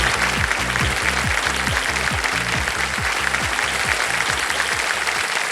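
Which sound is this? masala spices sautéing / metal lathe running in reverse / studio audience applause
studio audience applause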